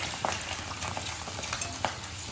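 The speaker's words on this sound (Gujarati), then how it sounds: "ભૂંગળાને તળી લઈશું" Bhungla, a puffed wheat snack, deep frying in hot oil, giving a continuous dense bubbling sizzle close by, with a few brief clicks of stirring.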